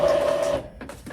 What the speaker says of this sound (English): I'm saying nozzle check because I shut down the printer irregularly, not the correct way.